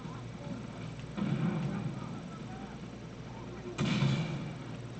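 Two muffled booming gunshots in the game Far Cry 3, spaced a few seconds apart over steady background rumble.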